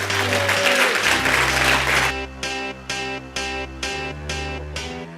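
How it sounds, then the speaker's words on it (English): Applause from an audience fills the first two seconds, then gives way to music with steady rhythmic chords and a deep bass note. "I'd like to give you a huge, huge round of applause for Tony McCarthy"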